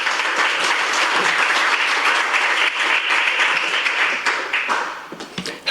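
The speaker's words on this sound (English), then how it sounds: "So please give them a warm applause and welcome" An audience at a conference gives warm, sustained applause to welcome young presenters, a dense, loud patter of many hands that thins out toward the end.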